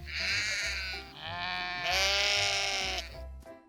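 Loud, near sheep bleats: a few long, quavering calls run almost continuously, with no other sound around them.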